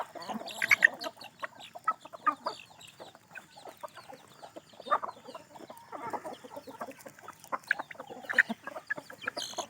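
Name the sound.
chickens clucking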